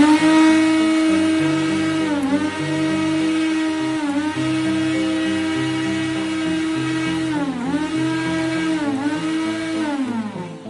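A homemade solar-powered mixer grinder, run from a 10-watt solar panel and built into a small table with a drawer, whines steadily and loudly throughout, its pitch dipping briefly several times as the load shifts.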